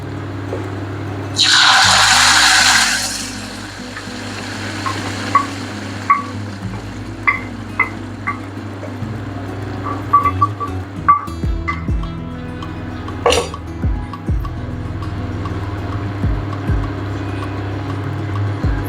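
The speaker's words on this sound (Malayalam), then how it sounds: "ഇനി നമുക്കിതിലേക്ക് നമ്മുടെ ചക്കക്കുരു ചാറ് ഒഴിച്ചു കൊടുക്കാം" Jackfruit seed broth is poured into a pan for a prawn and mango curry. A loud splashing pour lasts about a second, then soft crackles and small bubbling pops follow as the pan simmers, close by with no voices.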